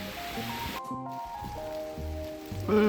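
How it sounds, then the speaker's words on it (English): Rain falling outdoors during a hike, a steady soft patter of drops on surfaces under tonal background sounds, fairly faint and continuous with a brief dropout. "Now it also really starts raining again."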